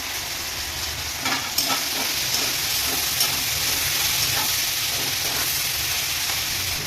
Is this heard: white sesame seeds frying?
yes